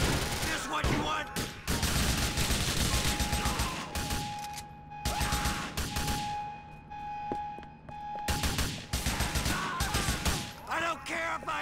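A prison shootout in GTA 4 The Lost and Damned, with rapid bursts of close gunfire in clusters and short gaps, mixed with people talking.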